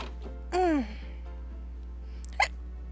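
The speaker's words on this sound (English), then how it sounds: "I got some hiccups." A single voiced hiccup-like yelp followed by a short sharp catch of breath, both close and brief over a low steady hum, from a character in the Gabriel Knight adventure game.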